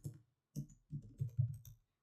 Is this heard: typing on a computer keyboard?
yes